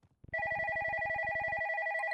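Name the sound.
telephone ringing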